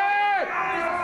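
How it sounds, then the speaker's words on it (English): Union protesters shout abuse at workers arriving back on site, a single raised, strained voice sliding downward in pitch over a loud crowd murmur, close and harsh for about a second. "abuse was hurled at those returning to work"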